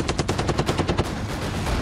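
Machine-gun fire at an India-US joint military exercise: a rapid burst of about ten sharp, loud shots in quick rhythm, then fading into continued rumbling din.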